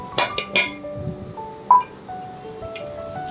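Cat food being put into a bowl at home: a quick run of bright clinks and taps against the dish, then another sharp clink and a few fainter ringing touches in a quiet room.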